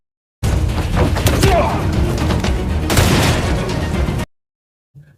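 Bursts of gunfire in a Russian mafia action film, a dense loud volley of rapid shots and impacts lasting about four seconds, then a brief thud after a pause.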